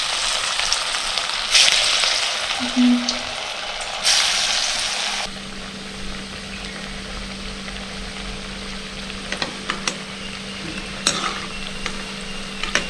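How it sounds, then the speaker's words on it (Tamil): Balls of banana-flower vadai batter fry in hot oil with a loud, continuous bubbling sizzle that eases into a quieter, steady crackle partway through, punctuated by occasional small clicks. "உருண்டை பிடிச்சி வச்சுக்கிட்டு எண்ணெய் காஞ்சோடனே இப்படி சும்மா லேசாக அமைக்கி போடும்."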